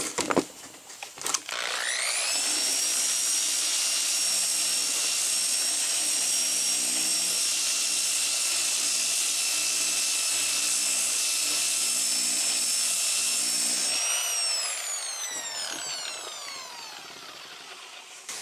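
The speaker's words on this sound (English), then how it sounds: "Now I take my DA and lock it down so I can start blocking it." A dual-action sander locked down with 80 grit paper blocks body filler on a car interior panel, a loud, steady high-pitched whir that spins up, holds evenly, then winds down near the end, close and alone.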